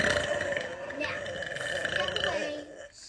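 A long, drawn-out burp from a woman, a low croaking rasp that sustains for most of the moment before cutting off, close and fairly clear with no talk over it.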